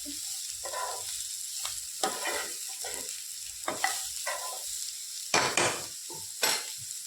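Chopped bottle gourd sautéing in a pan, with a steady sizzle broken by bursts of a spoon stirring and scraping against the metal, close and fairly quiet.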